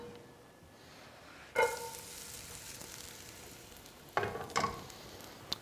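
Vegetables sauteing in avocado oil in a pan, with a soft steady sizzle rising sharply after a quiet start and a few louder crackling bursts toward the end.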